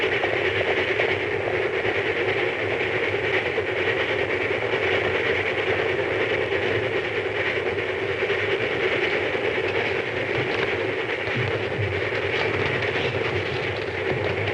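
A steady, continuous rumble of a train rolling along, with a low mechanical drone and faint rattling, unchanging throughout.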